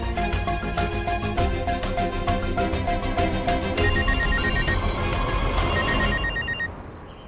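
A telephone rings insistently in a repeated pattern of bright, trilling bursts, loud and close, running for several seconds before stopping abruptly near the end.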